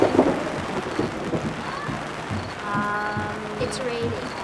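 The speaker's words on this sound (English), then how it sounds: "it's raining" Rain falls steadily outdoors while low thunder rumbles underneath, and a voice speaks over the storm.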